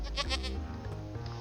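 A Minecraft goat bleats in a few quick, wavering pulses, loud and close, followed by a low lingering tone.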